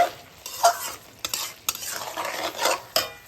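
A spoon stirs sugar into a simmering bottle gourd and prawn curry in a pan, giving soft repeated scraping strokes with a light sizzle, close and fairly quiet, and no voices.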